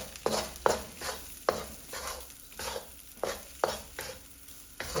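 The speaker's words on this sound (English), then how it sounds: "We want to really toast up our rice now and get it mixed with the egg" Fried rice and egg stirred and tossed in a hot pan, a steady sizzle broken by repeated scraping strokes about once a second, close and fairly loud.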